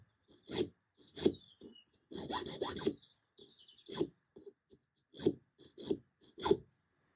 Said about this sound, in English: A couple of cuts of that and a few passes with a file